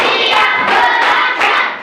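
Several people clap their hands together in quick, steady bursts, a loud group rhythm filling the room.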